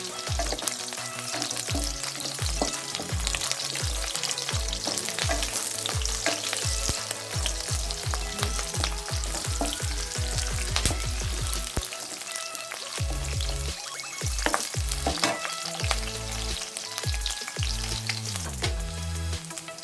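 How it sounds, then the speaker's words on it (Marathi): Onions frying in a pan for mixed vegetable bhaji, with a steady close sizzle and scraping stirring noises throughout, and no talk. "कांदे आपल्याला थोडेसे फ्राय झालेले आहे।"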